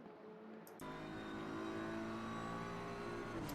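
BMW race cars in a sim racing game at Monza, one passing another: after a short quiet lead-in a loud engine roar cuts in abruptly and holds steady, pitch wavering as they run side by side.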